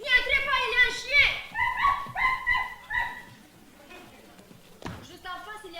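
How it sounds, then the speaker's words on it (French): A dog barks and yips in a garden setting during a live theatre performance, with a quick run of close, loud barks that trail into whimpers, followed by a sharp single yelp near the end. "il y a un chien"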